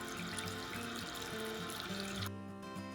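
Water runs from opened taps at the toilet, shower and kitchen sink while a house is drained for winter shutdown: a steady, close rushing hiss that drops off sharply near the end, with no talking.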